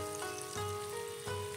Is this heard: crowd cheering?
no